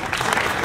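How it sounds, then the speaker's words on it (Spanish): A brief burst of applause for Héctor Peralta at the G100 Jazzamoart art exhibition: a dense, steady clatter of many hands lasting under a second. "Un aplauso."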